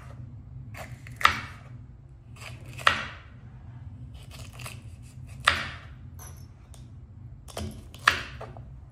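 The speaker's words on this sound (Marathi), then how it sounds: "शिमला मिरचीला पण असंच बारीक कट करायचं" A knife finely chopping bell pepper on a board in a kitchen: four sharp, separate cuts spaced a couple of seconds apart, each with a short scrape, over a steady low hum.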